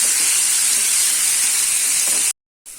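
Chopped tomatoes sauté in a hot pan for a dried anchovy fry, giving a loud, steady, close hiss that cuts off abruptly near the end before faintly resuming.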